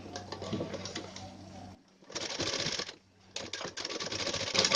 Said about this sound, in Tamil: இப்போ நான் அது வழக்கம் போல் என்னோட பேட்டர்னில் தைக்கிறேன்